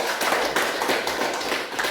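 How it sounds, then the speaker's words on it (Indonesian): Classroom applause from students for the first group, a brief burst of steady clapping from a room of children, close and continuous. "Mari kita berikan tepuk tangan untuk kelompok yang pertama"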